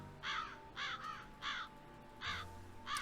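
Crows caw in the video game Nancy Drew: Secret of the Old Clock, a series of five harsh, evenly spaced calls over a faint steady hum, with no talking.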